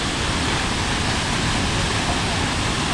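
An outdoor waterfall roars steadily at close range, making a loud, unbroken wash of rushing water with no voices.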